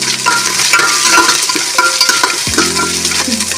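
Green chillies fry in a hot oil tempering with garlic and seasoning leaves, a steady close sizzle broken by stirring scrapes and light clinks of a utensil against the pan.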